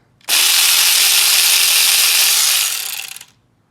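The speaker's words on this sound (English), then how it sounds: "electric ratchet" Electric ratchet backing out small 8mm screws on top of coil packs on an RB25DET engine, a single loud whirring burst lasting about three seconds that winds down at the end, with no talking.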